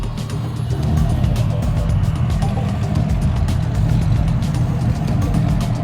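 A turbocharged Chevrolet Corvette Grand Sport at a cars and coffee meet makes a loud, steady engine rumble that swells slightly after the first second and holds close by.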